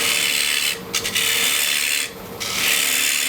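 A lathe gouge cuts a thin-walled maldrone wooden bowl, giving a steady, loud scraping rasp that briefly dips twice as the tool lifts away, with no voices.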